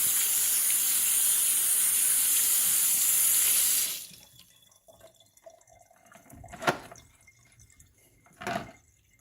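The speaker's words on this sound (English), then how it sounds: "But first, we need to wash our hands" A water tap runs steadily into a sink as hands are washed, a close, even hiss for about four seconds, then shuts off, leaving a few faint drips and small clinks.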